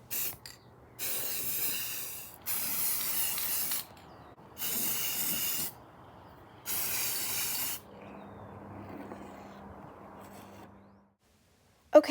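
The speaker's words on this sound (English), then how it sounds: "Ah, that first spray feeling." Spray paint hisses onto dollhouse parts in four loud, close bursts of about a second each with short pauses between, followed by quieter handling noise.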